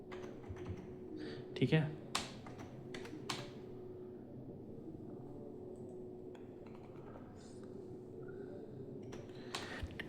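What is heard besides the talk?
typing on a computer keyboard, entering data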